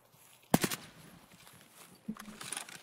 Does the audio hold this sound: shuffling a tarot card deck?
no